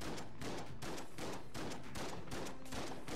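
Gunfire in the Enter the Gungeon video game comes as a dense, continuous barrage of rapid shots, close and loud with no gaps, and no one talks over it.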